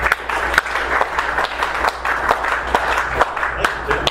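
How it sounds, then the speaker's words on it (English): An audience claps to welcome a real-estate speaker, with scattered, uneven claps and voices murmuring underneath over about four seconds. "Let's give him a round of applause, please, and welcome."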